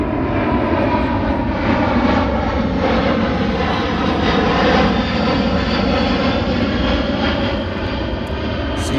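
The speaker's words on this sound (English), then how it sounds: "C-17 doing a flyover above the Hobson field, local Air Force base at Wright-Patterson" C-17 military transport jet flying over a cricket field near Wright-Patterson Air Force Base, a loud sustained roaring drone with a broad rumble that swells slightly and holds for the whole stretch.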